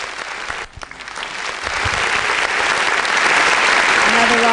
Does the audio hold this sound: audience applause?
yes